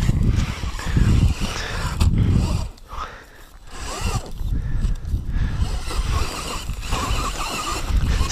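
An RC4WD Miller RC crawler climbs a dirt hill with its wheels slipping, a busy whirring motor and gear grind rising and falling in uneven surges, close and fairly loud with a brief dip in the middle.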